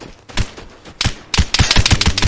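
Gunfire in the video game Vigor, with a few spaced shots and then a quick burst of sharp, loud reports close by.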